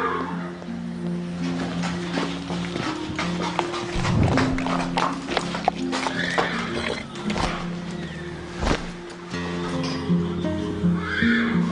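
A horse clip-clops on hard ground with an uneven hoof rhythm and occasional whinnies, under a steady musical bed in a 2003 British sitcom setting.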